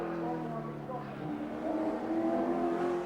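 Touring cars, a BMW among them, race at Symmons Plains in Tasmania in 1984, engines droning steadily with a gear change and rising revs, under a commentator's voice.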